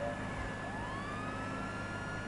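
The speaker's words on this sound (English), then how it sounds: "Nah, I got me police car." A police car siren in a video game wails continuously with rising and falling sweeps over steady engine and traffic noise, loud and close throughout.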